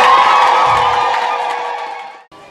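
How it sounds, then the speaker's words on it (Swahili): A church congregation cheers, shouts and ululates loudly at a Swahili deliverance and healing service, a dense crowd roar that fades slightly before cutting off, with no clear clapping. "Bwana, makofi, shangwe na vigelegele."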